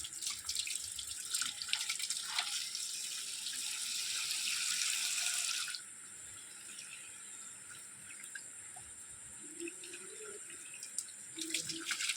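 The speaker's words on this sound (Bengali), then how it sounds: "সুন্দর করে ফোর্স দিয়ে জল মারো।" Water blasts with force from a hose or tap to clean a battery, a loud steady rushing hiss for several seconds that suddenly drops to a quieter trickle and splashing, with no talk.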